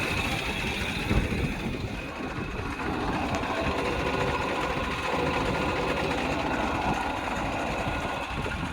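A used tractor's engine runs near at hand with its PTO gear engaged, giving a steady, even mechanical drone with a fine rattle throughout and no talking.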